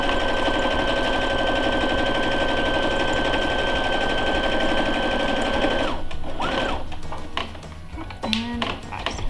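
A sewing machine runs at a steady, fast whir for about six seconds while stitching a half-inch seam on a child-size fabric face mask, then stops, leaving a few scattered taps and handling noises.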